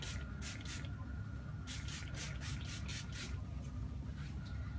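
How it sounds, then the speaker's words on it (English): Sea salt spray misted onto hair in a salon, a few quick hissing pumps, then a faster run of about seven bursts, close and clear over a steady background hum, with no talk. "also be using the sea salt spray as well"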